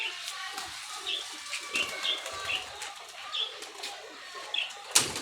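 Pigeons at a pigeon club loft give soft repeated coos with a few bursts of wing flapping, moderately close over faint outdoor background noise.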